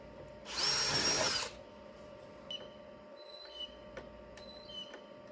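A power drill bores a hole while assembling Vinyl Works 32-inch above-ground pool steps, one loud steady whine of about a second, followed by quieter scattered clicks and taps.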